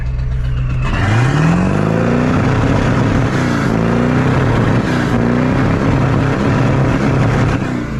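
Ford 7.3 Powerstroke diesel truck pulling through snow, its engine revving loud and close, rising in pitch and holding with a rough rumble and some wheel and snow noise, no talking.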